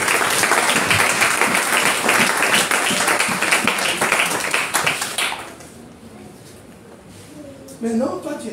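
A church congregation bursts into loud, sustained applause and cheering for Jesus at a francophone Togolese sermon; the dense clapping fills the first five seconds, then fades to a quieter room where a voice begins talking.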